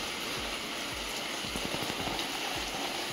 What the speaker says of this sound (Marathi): पाऊस तर जोरातच चालू आहे